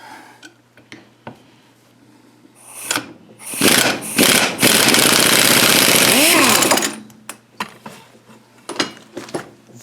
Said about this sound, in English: So we'll go and put our impact on reverse.